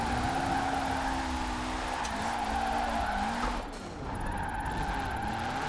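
A car drifts in the video game Forza Horizon 4, its engine droning and shifting pitch as the tires slide and squeal through the turn, with a brief dip partway through.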